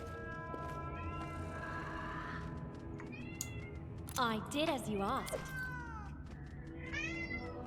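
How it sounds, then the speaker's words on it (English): A pet cat at home screaming with its face pressed into the crack under a closed door, loud drawn-out yowls rising and falling over several seconds while someone talks over it. "my cat is, he buries his face into, like, the crack under the door and screams"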